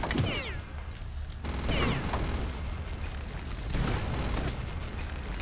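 Rockets fire and explode in the video game Return to Castle Wolfenstein, with several loud booming blasts and crackling bursts in quick succession amid a noisy, rumbling battle in gloomy caves.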